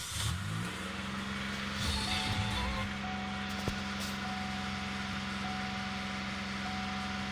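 A 2003 Chevy Impala with an idle fault cranks, catches and settles into a steady, elevated idle hum, close and continuous with no talking.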